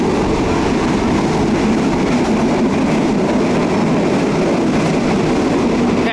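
A Thai passenger train rolls along the rails past rubber trees, heard from on board as a loud, steady rumble and rattle of wheels and carriages that continues without a break.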